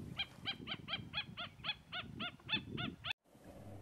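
Coscoroba swan calling at a salt lagoon, a steady series of about a dozen nasal honking notes in even rhythm, fairly close, over soft wind and water background, ending with a sharp click.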